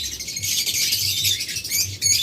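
A roomful of pet birds for sale, budgerigars, cockatiels and lovebirds, chirping and twittering nonstop in a dense, bright chorus, close and fairly loud with a faint low hum beneath.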